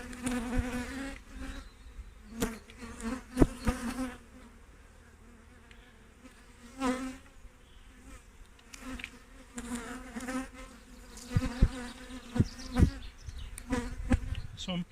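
Honey bees buzz around an open hive being inspected in Norfolk, a soft steady drone with close individual bees flying past the microphone in louder bursts, and handling knocks from the frames now and then.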